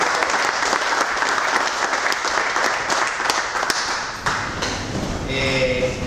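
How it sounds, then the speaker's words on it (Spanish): Guests at a hunting-day awards gathering clap for a placing hunting team, a steady roomful of applause with scattered sharper claps, thinning slightly toward the end as a voice begins talking. "Sexto, el equipo de Daniel, Javier y Manolo. Un aplauso."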